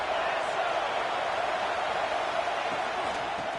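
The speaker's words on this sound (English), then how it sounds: "This crowd even louder now on 2nd down as they try to hold on." A stadium crowd roars on 2nd down in the College Football 25 video game, a steady wash of cheering noise held under a commentator's voice.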